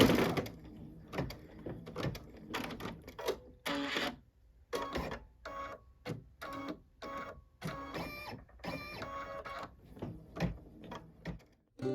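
A Baby Lock embroidery machine stitches in bursts of fast mechanical chatter, rhythmic runs of needle strikes broken by short pauses, close and fairly loud.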